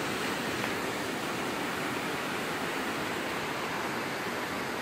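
The Kurzhips river rushes far below a high bridge in a mountain gorge, a steady broadband roar of whitewater that stays constant and unbroken without any voices.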